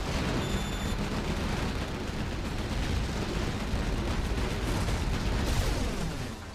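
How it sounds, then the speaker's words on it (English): Artillery shells slam into a base in Generals Zero Hour, a dense, continuous rumble of overlapping blasts that stays loud throughout with no voices. "Artillery hits the base."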